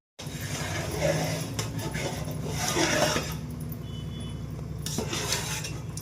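A thick arisela sweet mixture is stirred in a metal pot, with continuous scraping and rubbing of a spoon against the pot and a low steady hum beneath it.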